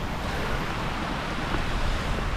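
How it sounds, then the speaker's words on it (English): Running water in Chongqing, China, a loud, dense continuous rush like a fountain or cascade, close and unbroken, with some wind noise. "Lovely running water."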